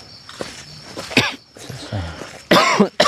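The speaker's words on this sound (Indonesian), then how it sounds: "Saya mungkin kecapean ya, batuk ya." A few harsh, wet coughs in short bursts, separated by brief pauses, close to the listener with faint background noise, from a fatigued adult man.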